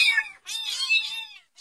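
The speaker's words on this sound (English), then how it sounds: "I got him a kitten." Kitten meowing, high thin cries in two drawn-out calls followed by the start of a third, close and clear.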